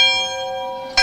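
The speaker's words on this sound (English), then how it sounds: "Every graduate will have a chance to ring the victory bell" A victory bell rings out loud at a high school graduation, one sustained metallic tone decaying, then a fresh strike near the end.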